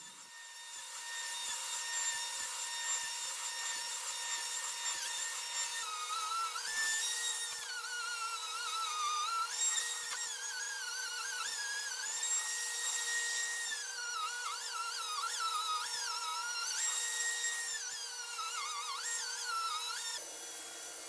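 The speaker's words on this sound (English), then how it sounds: "using a 3-inch bit is making quick work out of all this" A router with a 3-inch bit runs continuously with a steady high whine, its pitch shifting as the cutter grinds across a wood slab, flattening it for a long stretch.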